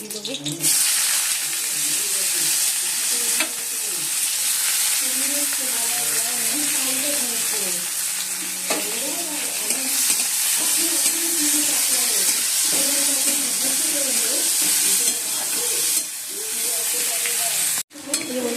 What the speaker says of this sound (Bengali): তেলটা গরম হয়ে গেছে কালো দিয়ে দিলাম